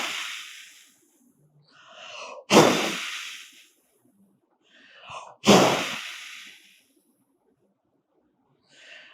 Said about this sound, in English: Just you inhale slowly and then exhale completely with a blow from your mouth like this.